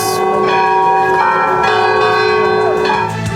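Church bells of Igreja do Bonfim in Salvador, Brazil ring loudly and continuously, their overlapping strikes producing a dense, sustained metallic clangor with no voices.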